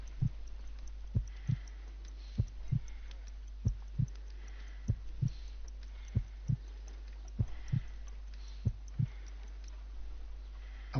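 Slow, weak heartbeat at around 50 beats per minute, with soft paired thumps repeating evenly over a steady low hum.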